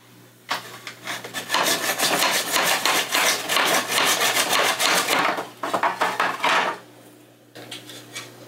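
Scrap PVC pipe being cut by hand, a dense rasping sawing run of rapid strokes that stops briefly and then resumes before a pause, close and fairly loud with no talk.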